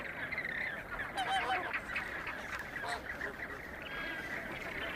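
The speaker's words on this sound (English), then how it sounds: "Flamingos build nests in large colonies on the salt pan" A flamingo colony on a salt pan in the Atacama Desert gives a steady chorus of honking, goose-like calls, with several birds calling at once and overlapping throughout.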